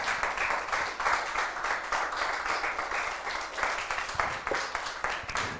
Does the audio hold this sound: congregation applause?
yes